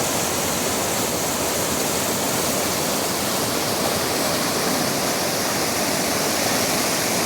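River water rushing steadily after a night of rain, a dense, continuous broadband roar that stays loud and even throughout, with no voices.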